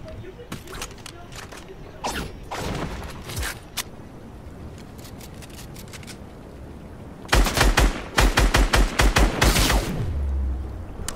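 Gunfire in the video game Fortnite, scattered shots early on, then a dense rapid burst of loud close rounds near the end; a person talks at points over the shooting.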